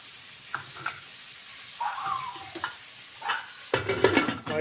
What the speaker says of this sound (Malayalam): കപ്പ തിളപ്പിച്ച് വടിച്ചെടുക്കാൻ പോവാണ്